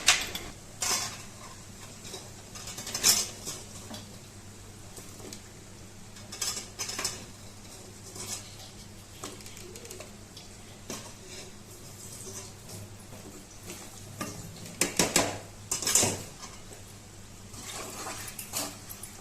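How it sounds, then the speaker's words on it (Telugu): Chicken pieces are stirred into pickle spices, with a steady wet mixing and occasional louder scrapes and clinks of a utensil against the vessel, close and alone. "చికెన్ ముక్కలు వేసుకున్న చికెన్ను అందులో కలుపుకోవాలి."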